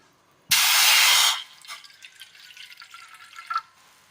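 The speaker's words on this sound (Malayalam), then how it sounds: "പാത്രത്തിലേക്ക് ഒരൽപ്പം വെള്ളം ഒഴിച്ചു കൊടുത്തിട്ടുണ്ട്." Water is poured from above into a cooking pot on the stove for a Kerala fish curry, a loud splashing pour of about one second followed by softer dripping and trickling.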